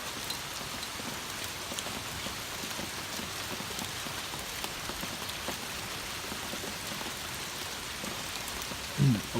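Torrential rain falling during a summer storm, a dense, even roar of heavy rain pouring down without a break, with a brief louder knock near the end and no voices.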